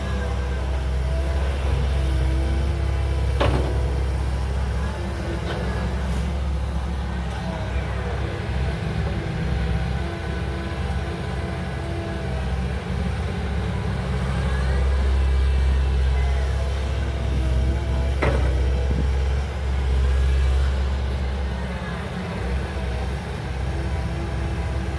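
A Komatsu PC130-10MO turbocharged excavator engine runs steadily while digging out an old pond, a continuous loud low drone with occasional faint clanks, no talk.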